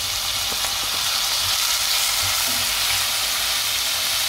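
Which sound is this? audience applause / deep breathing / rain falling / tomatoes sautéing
tomatoes sautéing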